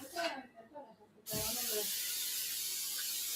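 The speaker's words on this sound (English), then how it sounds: "And I'm spraying this pan because I do not want." Cooking spray from an aerosol can sprayed onto a pan, a loud close hiss that starts abruptly and holds steady after a person speaks briefly.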